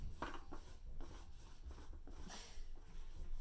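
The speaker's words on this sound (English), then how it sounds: "I am just pretty much wiping off any excess paint" Acrylic paint being wiped off a textured canvas, giving soft, close rubbing strokes that repeat in an uneven rhythm and stay fairly quiet, with no talking.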